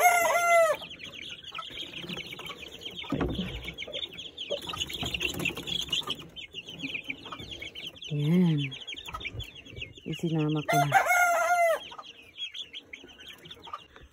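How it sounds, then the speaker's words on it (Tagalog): Chickens about three months old cluck and crow as they are let out into a ranging area, a busy flock chattering throughout with a few louder crows and bursts of wing flapping, while a person speaks briefly. "Maingay yung manok."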